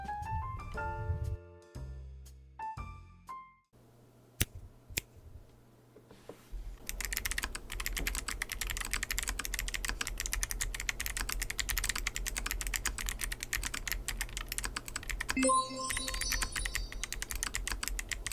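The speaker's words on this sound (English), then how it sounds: "Enjoy the typing sound test." Typing on a KBDfans D60lite, an HHKB-style mechanical keyboard: after a few seconds of tones and a soft thump, a dense, steady stream of loud, close key clacks continues alone to the end.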